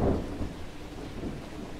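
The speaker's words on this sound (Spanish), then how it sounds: "Este hermoso sonido de la lluvia y de los truenos me encanta" Steady rain falling outdoors during an autumn storm near a vegetable garden, with a low thunder rumble at the start fading into continuous, even rainfall at moderate volume.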